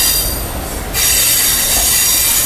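The Gujarat SF Express, an Ahmedabad to Mumbai superfast train, pulls into Mumbai Central with a loud, sustained high-pitched squeal of wheels on rails over a rumbling roar, heard close from inside the train.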